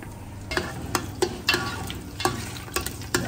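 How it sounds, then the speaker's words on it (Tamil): Green chillies frying in coconut oil in a hotel kitchen, with a steady low sizzle broken by regular scraping stirs about every half second, close and fairly loud. "இதில் ஒரு 5 பச்சை மிளகா வெட்டி வச்சுக்கி இதில் எண்ணெயில் போடு"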